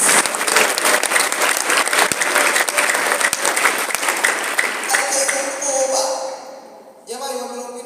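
A church congregation claps together in a dense, loud burst of applause that fades over several seconds, followed by a short resonant ringing tone at the end.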